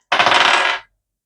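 Tea dice tumble and rattle briefly across a hard surface in a quick, loud clattering burst lasting under a second, then stop in silence.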